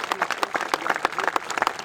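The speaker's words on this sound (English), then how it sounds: "Big round of applause for Tom" An audience at a Help for Heroes event applauds, with a short burst of dense, fairly close hand-clapping from a crowd that carries on steadily without a break.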